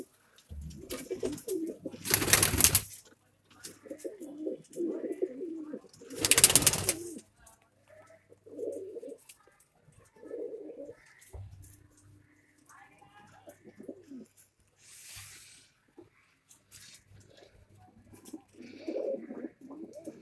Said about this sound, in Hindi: ये देखिए मलबे कबूतर।